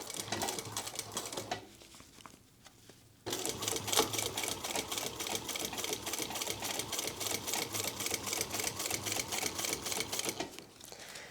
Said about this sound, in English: So then we're going to stitch about 1/8 inch from the seam that we just created.